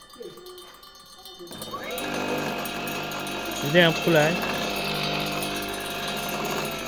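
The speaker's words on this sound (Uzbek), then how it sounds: "Mana stanagamiz suv yordamida kesadi, hech qanday ortiqcha nima deydi, sindirmaydi kafil." A water-fed stone cutting machine slicing tile starts up and holds a continuous steady whine and grind, with a person speaking briefly over it partway through.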